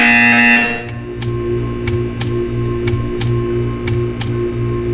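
A buzzer in the Portal 2 video game sounds as a short, loud harmonic buzz, followed by a steady run of sharp ticks over a low electronic hum.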